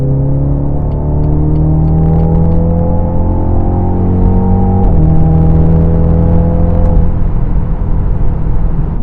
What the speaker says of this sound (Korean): 배기 사운드가 좋아요